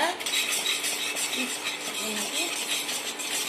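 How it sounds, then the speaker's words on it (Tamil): Watermelon ice cream mixture is stirred in a pan, with a spoon scraping and clinking lightly against the metal in a continuous, moderately quiet rhythm and a faint sizzle underneath. "மிக்ஸ் வச்சு நல்லா கலந்துக்கிட்டே இருங்க."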